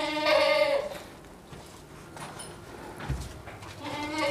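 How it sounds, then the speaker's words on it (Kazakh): Goats bleat at close range, two loud drawn-out calls at the start and end with soft farmyard noise between, no talk. "ешкілер"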